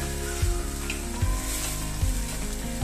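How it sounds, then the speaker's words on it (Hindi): A steady sizzle of onion paste frying slowly over a low flame in a pan, with occasional soft thumps of stirring, close and continuous. "अब जब तक हमारी प्याज का मसाला फ्राई हो रहा है"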